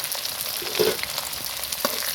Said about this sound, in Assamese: পিঁয়াজখিনি মই ভাজি লওঁ।